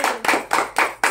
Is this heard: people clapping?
yes